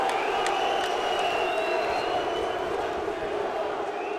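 A stadium crowd roars for fighter Celsinho during an MMA bout against Jorge Patino Macaco, a steady, dense wall of cheering with scattered whistles and shouts, loud and sustained throughout.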